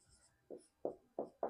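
A math equation is written out, probably with pen on paper, in a series of four short, close scratchy strokes that come in a quick uneven rhythm against near silence.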